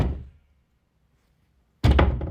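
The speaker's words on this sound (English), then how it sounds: "Sick of hitting this door." A door struck hard with a solid thunk at the start, the sound decaying over half a second, then silence before a second loud heavy knock-like impact near the end.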